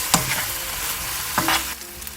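Fish cake stir-fried with soy sauce and corn syrup in a pan, giving a close, steady sizzle broken by two scraping stirs of a utensil, with no voices.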